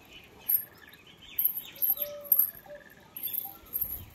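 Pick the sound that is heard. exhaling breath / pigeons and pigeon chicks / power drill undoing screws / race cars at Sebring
pigeons and pigeon chicks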